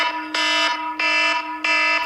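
A fire alarm tone used as a phone alarm sounds in three loud, harsh buzzing pulses of about a third of a second each, evenly spaced, with nothing else heard.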